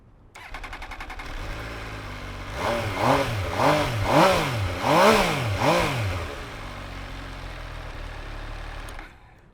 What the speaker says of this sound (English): Let's do a quick sound test.